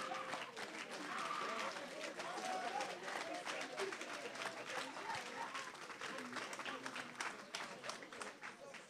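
A church congregation cheers and applauds for Jesus Christ of Nazareth, a dense, sustained wash of clapping and crowd voices filling the room at steady loudness throughout, with a preacher's voice partly audible beneath.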